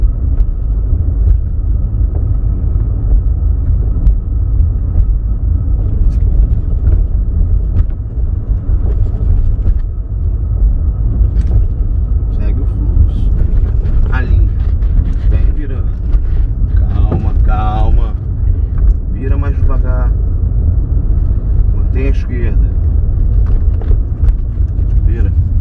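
A car engine runs steadily during a driving lesson before a licensing exam, a low continuous rumble with creaks and mechanical noises, while an instructor and student talk over it.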